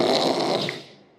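A voice imitates severe obstructed snoring: a single harsh, rattling inhaled snore about a second long that fades out at the end, heard alone.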